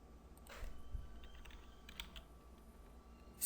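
Quiet computer keyboard typing comes in short bursts of light clicks, with a louder clack at the very end, in a quiet room.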